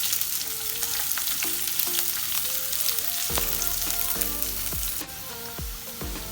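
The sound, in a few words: cumin and onion frying in hot oil in a pan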